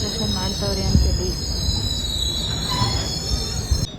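Jan Shatabdi Express 12090 running on rails, with a loud steady rumble of wheels on track and high metallic squeals ringing continuously close by.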